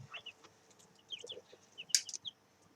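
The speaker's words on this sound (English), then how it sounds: "And here you can see adorable chicks." Young chicks huddled together in a chicken coop peep and chirp in quick, scattered high-pitched bursts, with a few louder cheeps standing out from the soft, busy background, and no one speaking.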